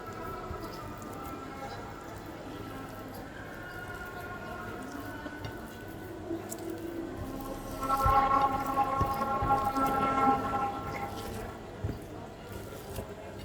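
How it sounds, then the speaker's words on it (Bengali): Tamarind chutney being squeezed and mashed by hand with salt and dried chili powder, a soft wet squishing that grows busier and louder midway before settling again. "দিয়ে লবণ দিয়ে চটকিয়ে নেব তেঁতুলটা"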